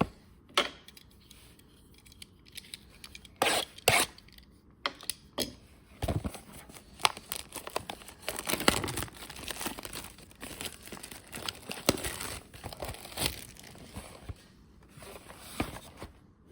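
Mega Construx toy boxes and packaging being opened, with dense crinkling, tearing and crunching of cardboard and plastic in irregular bursts up close, no talking.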